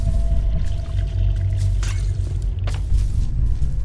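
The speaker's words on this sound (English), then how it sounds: "I hear water" Water gurgles and pours in Hello Neighbor, a steady low liquid rumble with a few splashy bursts and squelches, close and fairly loud, with no speech over it.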